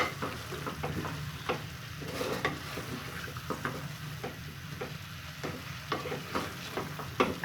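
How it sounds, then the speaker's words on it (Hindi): Cauliflower being stirred into masala in a pan for aloo gobi: a steady close sizzle runs throughout, punctuated by frequent rhythmic scrapes and taps of a spoon against the pan, with no talking. "अब गोभी को भी हम अच्छे तरीके से इसमें मिक्स करते हैं"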